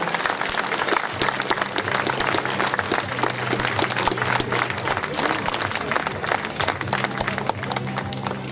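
A crowd at a costume parade podium in Chanaz applauds loudly and continuously, thick rapid clapping filling the whole stretch, with a faint sustained musical tone underneath.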